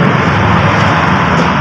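Starter motor on a 1992 small-body Toyota Corolla gives off a loud, steady whirring drone that holds evenly for under two seconds with no pauses.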